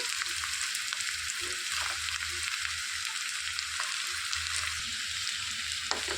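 Onions, curry leaves and pieces of bitter gourd fry in a pan with a constant hiss and crackle of hot oil, with occasional scraping stirs under the steady sizzle.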